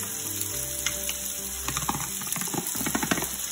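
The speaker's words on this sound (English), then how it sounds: "I'm gonna saute our onions for a couple of minutes." Onions sauté in leftover bacon grease in a pan, giving soft crackling sizzle and scattered pops that grow busier partway through, under a steady electrical whine.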